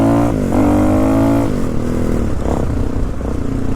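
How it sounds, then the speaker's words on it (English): A Suzuki DR-Z dirt bike, a roughly 2000 model converted from kickstart only, riding toward a trail, its engine loud and close, revving up and settling with pitch changes and some mechanical clatter. "this bike started out as a kickstart only DRZ"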